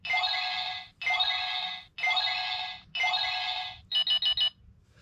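Four long electronic beeps in a steady rhythm, followed by a quick burst of four short beeps from a toy phone, loud and close with no talking.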